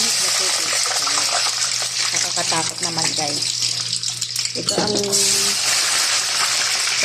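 Chicken strips and potatoes sizzle and crackle in hot oil, a steady hissing spatter running throughout while someone talks over it in Filipino.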